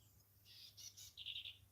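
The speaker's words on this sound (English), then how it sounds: "I'm listening to a bird sing right now." A bird sings outdoors in a few short, high chirping phrases, faint and fairly distant, over a low steady hum, with no talking.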